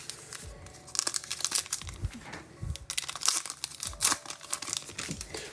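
Foil baseball card packs are torn open in a stack: close, crisp crinkling and ripping of wrappers in uneven bursts, fairly quiet, with no talking.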